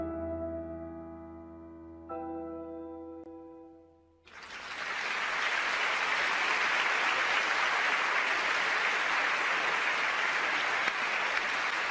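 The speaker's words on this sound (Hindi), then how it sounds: "सब तालियां बजाइए जल्दी" An audience in a Shinchan cartoon breaks into steady, dense applause after a few seconds of musical tones. The clapping stays loud and continuous to the end, with no talk over it.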